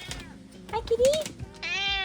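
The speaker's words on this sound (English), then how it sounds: "We found the cat." A cat meows nearby in a home, giving a couple of short, rising meows in quick succession over quiet room sound.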